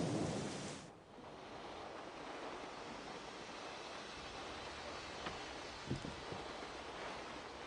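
A thunderstorm in Syberia rumbles and hisses as a steady wash of heavy rain and wind, with a soft thud of distant thunder partway through and no voices.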